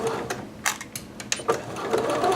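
A sewing machine stitches slowly up to a pin, close by, in short uneven bursts broken by sharp clicks.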